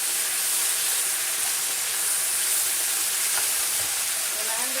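Ghee hitting a hot pan gives a loud, dense, even sizzle and hiss that holds steady from start to finish with no talk over it.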